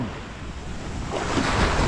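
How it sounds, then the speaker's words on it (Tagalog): Strong ocean waves breaking on a seashore in rough, stormy weather, a continuous broad roar of surf mixed with gusty wind buffeting the microphone, swelling louder toward the end. "malakas po ang alon ngayon dahil nga po sa sama ng panahon"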